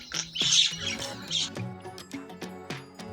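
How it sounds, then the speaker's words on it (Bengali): A myna bird gives a few sharp, chirpy squawks in quick succession near the start, fairly close, over a light musical backing that continues after the calls fade. "ময়না পাখি কথা কয়।"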